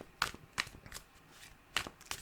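Tarot oracle cards being shuffled for a reading, giving several quiet riffling bursts in irregular rhythm, close and soft with no talk.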